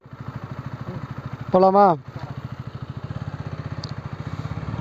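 Motorcycle engine running at a steady, close, rhythmic thumping idle as the rider sets off, with someone briefly speaking partway through.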